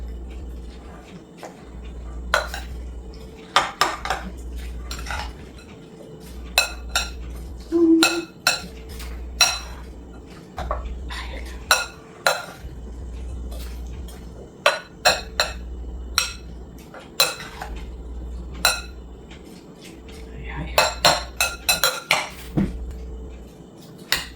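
Metal utensils scrape and clink against a full bowl of creamy pasta salad as the ingredients are mixed, with repeated bursts of clattering over a steady low hum and no talking.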